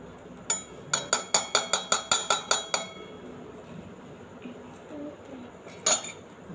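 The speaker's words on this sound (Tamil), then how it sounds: "இப்போ வந்து அந்த ஒயிட் கலரும் எல்லோ கலரும் நல்லா மிக்ஸ் பண்ணுற மாதிரி மிக்ஸ் பண்ணிக்கோங்க." A utensil beats white and yellow ingredients together in a bowl for a crispy sweet snack, giving about a dozen quick, evenly spaced clinks in a steady burst, then a pause and one last louder clink.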